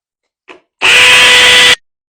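A hammer drill set to hammer mode bores a hole for PVC pipe straps in a garage. There is one close, loud whirring burst of about a second, preceded by a brief faint click.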